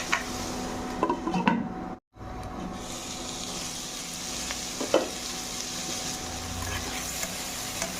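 Vegetarian cabbage bhaja with garam masala fries in a pan, a soft continuous sizzle broken by a few scraping stirs and clinks of a spatula, heard close with no voices.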